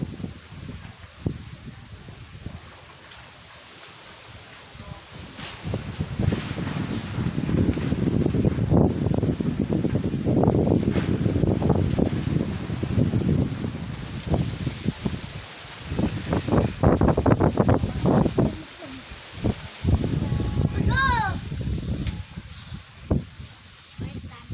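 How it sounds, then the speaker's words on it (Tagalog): Strong typhoon wind gusts through trees, with leaves rustling and broadband roaring that swells and fades over about 25 seconds, mostly close and loud with some wind buffeting on the microphone, while people talk underneath. "Grabe ang hangin no."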